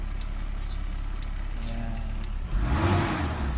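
A Mitsubishi Adventure engine idles, then rises sharply into a strong rev that swells through the final second, close and loud, after an RPM gauge repair.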